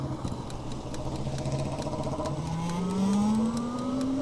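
An Oben Rorr electric motorcycle's motor whine climbs steadily in pitch as it accelerates toward 100 km/h top speed in Havoc mode, with wind rush and road noise building beneath it.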